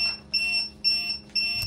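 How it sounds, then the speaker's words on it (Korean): A WANDI Gastiger2000 portable multi-gas detector sounds its alarm after a reading passes the set threshold, giving three loud, close, evenly spaced electronic beep bursts with no talk over them. "설정해 놓은 알람 값을 넘어서면은 소리, 빛, 진동, 경보가 울립니다"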